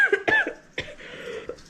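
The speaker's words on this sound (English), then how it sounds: "It's just the cough is still there" A person coughs a few times in quick, dry bursts close to the mic, lingering from an illness, followed by a short pause and a softer throat sound.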